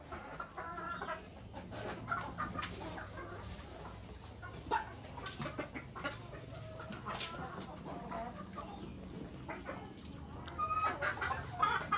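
Free-range desi hens on a local village poultry farm cluck and chatter continuously while pecking at fresh grass, a busy flock nearby with overlapping calls and no talk.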